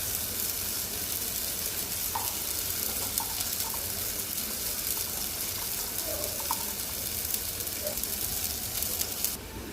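Steady, close sizzling in a hot pan with occasional scraping from stirring as fish and spices cook, no voices.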